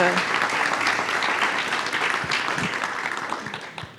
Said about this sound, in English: So please give me a hand in welcoming them to this.